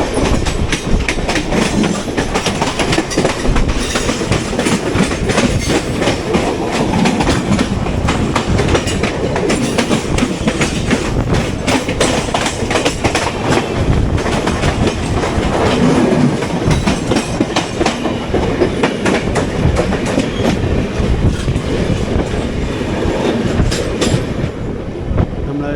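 Garib Rath Express train rolling into Kalyan station, a loud, steady rumble of wheels and carriages with rhythmic clickety-clack running the whole way, close and continuous with no talking.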